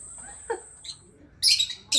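Lovebirds in an aviary squabble close by with a few scratchy chirps and squeaks, followed by two loud, harsh squawking bursts.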